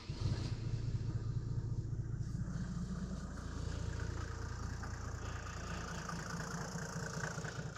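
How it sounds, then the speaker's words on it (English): A Mercedes G350d diesel engine idles steadily just after a cold start, with a low, even rumble and a busy diesel clatter that holds throughout without speech. "Sounds like a diesel."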